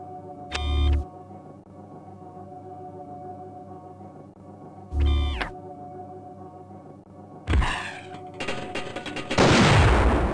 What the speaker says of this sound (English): set the payload to cluster bomb and throw it at the next hologram target